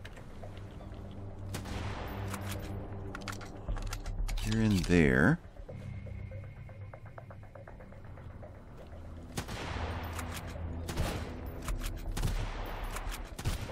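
Gunfire in the survival video game Sunkenland: bursts of mechanical, clattering shots come in clusters, with one loud, dense volley near the middle. Tense game music runs underneath, and a voice speaks briefly.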